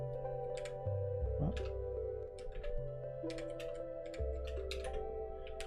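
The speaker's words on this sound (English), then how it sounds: "I type it here in all lowercase" Code being typed on a computer keyboard, clusters of quick, light key clicks in irregular bursts over a soft steady background hum.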